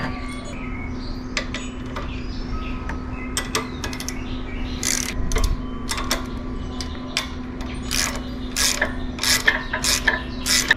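A ratchet clicks in quick uneven bursts while tightening bolts on a 2022 Honda Trail 125 motorcycle, close and crisp over a steady low hum, growing busier and louder toward the end.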